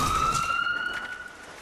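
A police car siren wails with a steady sustained tone that slowly falls slightly in pitch, fairly loud with a rough noisy wash underneath, heard alone.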